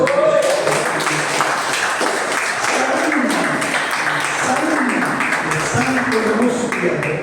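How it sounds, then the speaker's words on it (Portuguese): Applause from a church congregation, a dense steady patter of clapping that fills the space, loud and continuous throughout. "Um aplauso."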